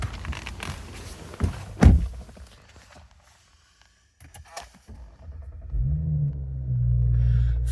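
A standard Audi S4 Avant 3.0 TFSI quattro with a chain-driven turbo V6 is started cold. Near footsteps and door thunks come first, then a brief crank and the engine catching into a steady, loud idle rumble.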